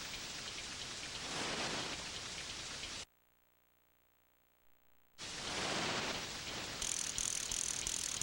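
Steady synthesized rain hisses in the SNES fishing game TNN Bass Tournament of Champions, cutting out into near silence for about two seconds, then returning with a faint mechanical ratcheting reel over it.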